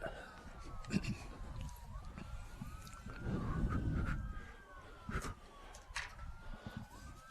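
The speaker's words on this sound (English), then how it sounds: "If you're hearing a siren, we are just, a few hundred yards from 67, 167, the freeway" A faint siren wails in the distance near a freeway, its pitch rising and falling, beneath outdoor background noise and occasional soft clatter.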